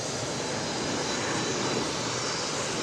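Airliner Arizona 1 landing at Dallas Love Field, a broad steady roar of jet and aircraft engine noise heard from outside, loud and sustained throughout with no voices.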